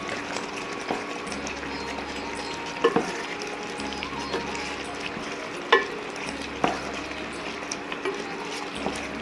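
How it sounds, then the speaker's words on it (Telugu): A spoon scrapes and stirs chili powder into a frying gongura chicken curry, making a continuous low sizzle broken by occasional sharp clicks and knocks against the pan. "కారం వేసుకున్న తర్వాత మంచిగా కలుపుకొని"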